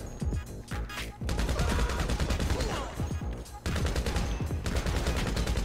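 Gunfire rattles through a GTA Online shootout, with dense, loud bursts of rapid shots and scattered single cracks continuing close and almost without pause across the whole stretch.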